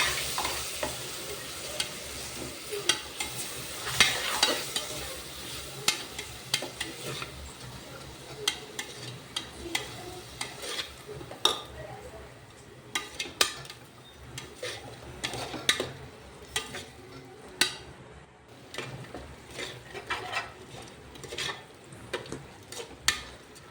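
Ground masala paste frying and being stirred in a pan for a hotel-style soya bean pulao, with a steady close sizzle and repeated scraping and clinking of the spoon against the pan throughout.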